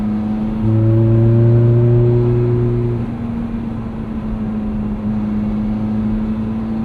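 A 2008 Ferrari F430 Spider V8 drones loudly and steadily from close by, its deep tone swelling briefly and then easing to a constant, lower-pitched cruise.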